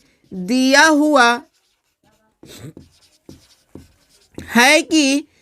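Pen or chalk scratches out the given values of a cylinder volume maths problem in short, faint strokes between spans of a teacher's speech, the writing heard mostly in the quieter middle gap.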